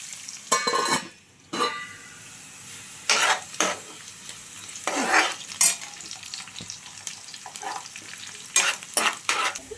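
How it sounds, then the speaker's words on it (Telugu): Onions frying in a pan for a village-style gongura chicken, a low sizzle punctuated by irregular bursts of spatula scraping and metal clatter as they are stirred. "మూత పెట్టుకుని ఒక రెండు నిమిషాలు ఉల్లిపాయలను మగ్గించుకుందాం"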